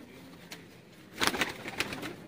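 Dab pigeons, a breed of fancy rooftop pigeon, coo softly in a few short bursts, with a louder cluster of rolling coos in the middle against a quiet background.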